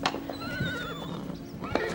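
A horse in a stable whinnies in a long, wavering neigh close by, with hoof clatter and a brief voice in the background.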